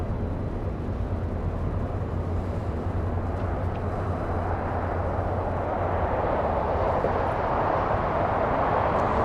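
Boeing 747 jet airliner at Los Angeles International Airport, a steady broadband engine roar that holds throughout and slowly swells in the upper range, heard at a distance with no other sounds over it.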